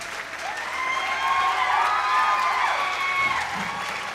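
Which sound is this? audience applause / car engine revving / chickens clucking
audience applause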